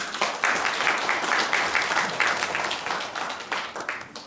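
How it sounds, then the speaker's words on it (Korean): An audience at a Democratic Party New Year unity gathering in Jecheon-Danyang applauds, with continuous, lively clapping from many hands throughout, close and fairly loud. "박수로 맞이해 주시기 바랍니다."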